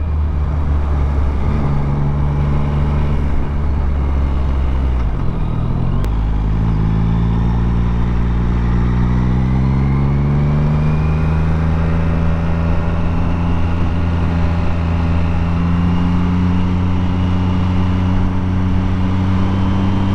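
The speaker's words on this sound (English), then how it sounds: "Rev bomb." A motorcycle engine runs loud and close in a steady idle, dips briefly, then picks up again with a drawn-out climbing drone as the revs build.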